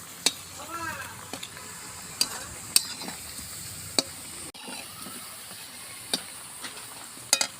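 Chhana jilapi frying in a pan, a low sizzle broken by sharp clinks and scrapes of a utensil against the pan, with brief murmured speech early on.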